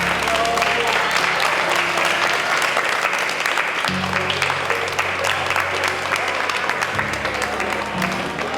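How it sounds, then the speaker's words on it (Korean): At a Japan–Korea art event on Tsushima, Nagasaki, built around marine debris, an audience claps in a loud, dense, unbroken round of applause that holds steady throughout, with faint voices mixed in. "우리 모두를 위해서 박수를 한번 치도록 하겠습니다."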